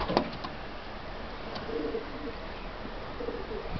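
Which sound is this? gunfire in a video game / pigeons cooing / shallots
pigeons cooing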